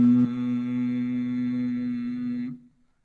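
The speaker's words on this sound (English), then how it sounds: "Humming sound like this." A single human hum held as one steady, mid-pitched tone during a breathing meditation, sustained for a couple of seconds before fading out, close and alone.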